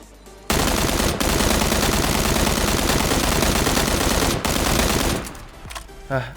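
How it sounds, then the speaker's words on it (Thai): Rapid automatic M16 rifle fire in the shooter game PUBG, played without a scope, a loud continuous burst lasting about four and a half seconds before trailing off into quieter game sounds. "ตอนนี้ไม่ใส่สโคบนะครับเราจะยิง เราจะยิงให้รัวแต่เราจะไม่โฟกัสที่ลูกกระสุนนะมาดูกัน"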